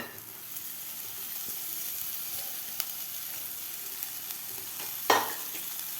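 Chopped fenugreek leaves sauté in a green masala paste with turmeric in a pan, giving a soft, steady sizzle with occasional light stirring taps and one sharper scrape near the end, close and quiet, with no speech.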